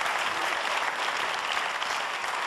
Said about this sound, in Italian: anche un applauso da parte degli ospiti